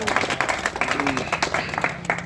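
Scattered clapping from a crowd at an OBC Mahasabha political rally in Raghogarh, brief uneven bursts of hands mixed with a voice talking over them.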